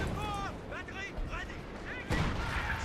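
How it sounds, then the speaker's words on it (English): An artillery strike lands in Company of Heroes 2 during a 1v1 match on Crossroads, a sudden heavy boom near the end following a stretch of male speech over battle noise. "I'm going to call in the Major's artillery"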